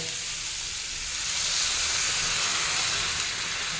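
Water is poured into a hot pan of fried beans and bursts into a loud, steady sizzle and hiss that swells and holds without a break.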